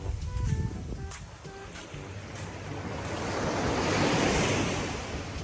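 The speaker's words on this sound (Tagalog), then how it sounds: "Ganda ng dagat." Sea waves wash onto a beach in a steady rushing surge that swells and recedes, close and fairly loud, with wind buffeting the microphone and no talk.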